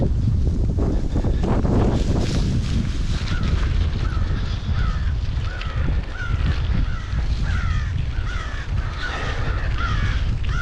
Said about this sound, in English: Look out, crows.